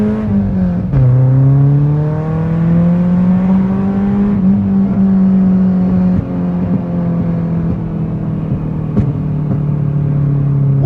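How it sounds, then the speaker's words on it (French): Engine of an S16 car fitted with an RC Racing full exhaust line, heard from inside the cabin as it accelerates gently: a deep, steady resonant drone whose pitch climbs slightly, loud and close throughout. "même en accélérant doucement c'est un truc de malade les amis, ça fait un bruit, ça fait une résonance dedans"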